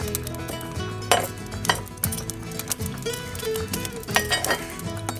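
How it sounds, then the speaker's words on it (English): Live-fire coals are raked and shifted under beef picanha on a grill, giving metallic scrapes and clinks of tool against grate with a few sharper knocks, close and fairly loud over a low hum. "we're gonna pull some coals directly under"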